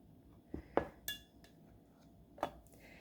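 Wax melts being chopped with a chopper: a few sharp, close knocks and light clinks, spaced irregularly over a quiet background, with no talking.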